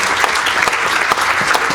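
An audience applauds the school principal at a high school mariachi performance, a loud, dense, continuous wash of clapping with no talk.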